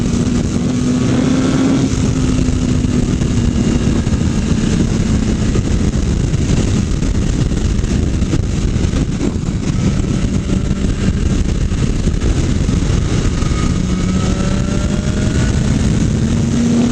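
A 2020 BMW S1000RR sportbike cruising in sixth gear, its engine a steady drone beneath loud rushing wind, with slight pitch changes as the throttle shifts.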